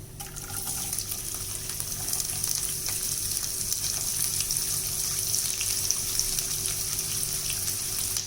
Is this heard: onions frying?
yes